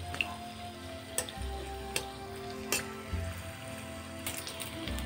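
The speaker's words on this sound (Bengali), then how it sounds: "লো টু মিডিয়াম ফ্লেমে বড়াগুলো ভাজবার চেষ্টা করতে হবে, যেমন করে আমরা তালের বড়া ভাজি।" Jackfruit fritters fry in oil over a low to medium flame, giving a steady close sizzle with occasional sharp pops and crackles, and no talking.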